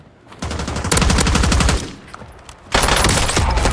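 Bursts of automatic gunfire in a Warzone match, sustained rapid rattling shots in two loud stretches separated by a brief lull, close and dominant with no talking.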